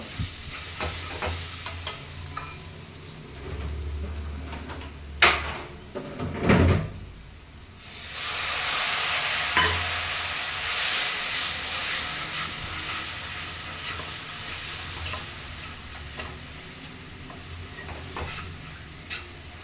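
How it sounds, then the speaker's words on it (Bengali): Doi katla fish curry being stirred and sautéed in a pan after a splash of water, with scraping knocks and a loud rush of sizzling that sets in midway and carries on steadily. "এর মধ্যে একটু জল দিয়ে আমি কষিয়ে নেবো"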